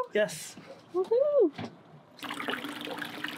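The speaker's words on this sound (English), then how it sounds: "We have good water flow." Water surges through splash pad plumbing with a steady rushing hiss that starts partway through, after short bursts of excited voices.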